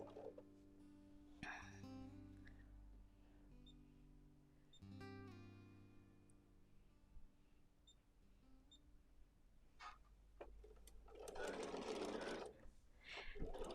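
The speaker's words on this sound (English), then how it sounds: "So fancy sewing machines are new to me." A modern computerized sewing machine sounds a few soft electronic beeps and tones, then near the end runs in a short, close burst of rapid whirring stitching, with some quiet speech in between.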